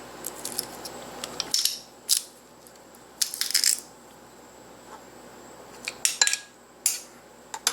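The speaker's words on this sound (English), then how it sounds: "So this is why I'm crushing it." A knife crushing garlic on a cutting board in a home kitchen gives bright metallic clinks and scraping taps in short clusters, close and fairly quiet, with gaps of near silence between.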